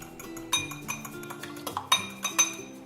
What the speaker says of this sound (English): You want to keep mixing it until the yolk and the egg whites are all combined.